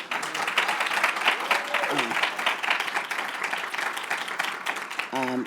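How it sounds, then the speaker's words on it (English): Audience at a graduate Lavender Graduation ceremony gives a sustained round of applause, a dense wash of clapping with voices and brief tonal sounds mixed in near the end. "Give them a round of applause."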